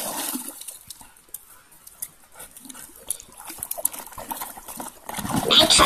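A Siberian husky digs and splashes in sticky mud, with wet slapping and squelching bursts in an irregular rhythm, close by, growing louder toward the end.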